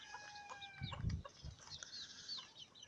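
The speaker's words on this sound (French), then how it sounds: "Donc allons voir ces petites cailles." Chinese quail in a pen give faint, high chirping calls with a few soft low thumps. The calls come at close range over a quiet background.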